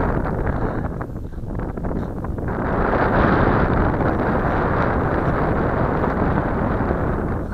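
Steady, loud wind roars across an outdoor microphone while a WLToys F959 Sky King three-channel RC airplane flies, a broadband rush that swells slightly midway and holds throughout with no talk.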